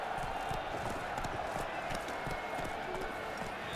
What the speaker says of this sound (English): I think perhaps I should probably get off my horse at this moment.